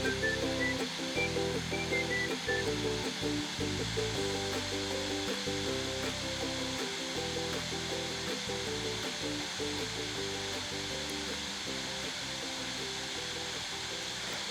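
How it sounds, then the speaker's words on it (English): A small hot pressing machine for wooden spoon and fork heads running steadily, with a continuous motor hum and regular rhythmic mechanical clunks repeating close by. "For this machine, it only presses the head part of the wooden spoon"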